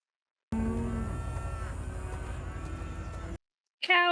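Cattle moo from a television drama scene, one long low bellowing call stretching for about three seconds before a short break and another sound at the end.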